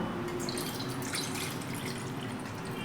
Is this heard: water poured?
yes